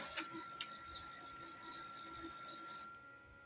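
A Brother HL-2130 laser printer warms up, giving a faint steady electrical whine with small clicks and chirps, heard close up in a quiet room.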